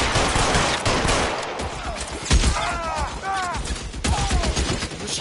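Rapid bursts of gunfire in the L.A. Noire video game, dense crackling volleys mixed with ricochet-like whines, loud and close, with shouted voices over the shooting.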